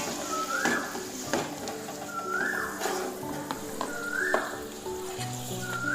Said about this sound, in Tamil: கொத்தமல்லி ஆட் பண்ணிடலாம். போட்டு லேசாக வந்து கிளறி விடுங்க.